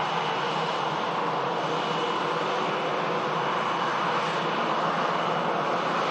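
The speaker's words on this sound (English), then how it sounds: "Air Portugal. Airbus A380. In from Lisbon." A TAP Air Portugal Airbus airliner in from Lisbon arrives at Manchester Airport, its engines producing a loud, steady roar that fills the whole stretch with no voices.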